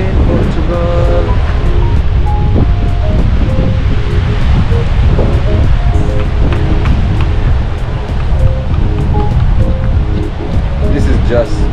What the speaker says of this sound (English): By the way, it's windy.